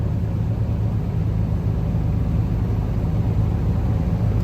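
Diesel truck engine idling steadily at around 1100 rpm while its air brake system builds pressure during a Class A pre-trip inspection, a close, constant low rumble with no variation.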